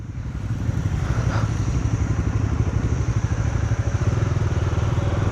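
A motorcycle engine runs steadily on a highway ride, recorded on a GoPro, a low rumbling drone with a rapid rhythmic throb, close and continuous, no voices.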